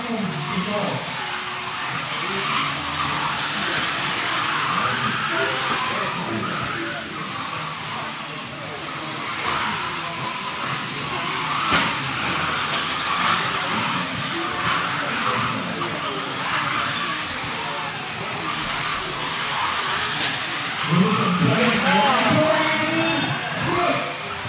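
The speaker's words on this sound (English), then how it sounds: "Second heat right here. Four-wheel drive trucking." Several 1/10 scale RC four-wheel drive trucks race around an indoor track, giving a steady, loud electric whine and hiss that swells and fades across the whole stretch, with voices talking over it.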